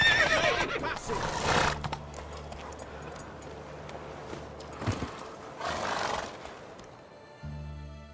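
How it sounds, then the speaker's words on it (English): A horse in The Witcher 3 rides up to the entrance of the city of Oxenfurt, whinnying loudly at the start and again midway, with hooves clopping and a low rumbling game ambience under it. "Vamos chegar aqui de cavalo"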